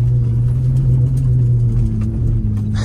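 A 2023 Ford Raptor truck drives on dirt in two-wheel drive, its engine a loud, steady, close rumble from inside the cab throughout with no talk.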